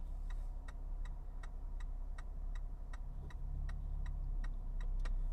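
Evenly spaced clicks from a 5th-generation Chevrolet Camaro's hazard lights, sounded by its digital instrument cluster, tick about twice a second, close by, over a steady low engine drone.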